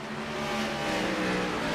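A race car roars along the track at a Grand National Series race at World Wide Technology, a loud sustained engine drone that swells as it passes, with no talk.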